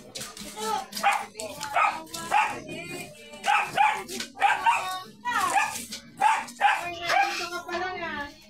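A dog barks and yips repeatedly in short bursts, close and fairly loud, with a voice or two mixed in among the barks.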